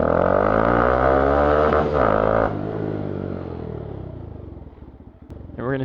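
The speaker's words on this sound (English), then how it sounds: "we're gonna try to do a quick little, like, dump the clutch and go" A Honda Grom motorcycle revs hard and launches with a clutch dump, its engine loud and close before the note drops and fades as it pulls away, then a short rev returns at the end.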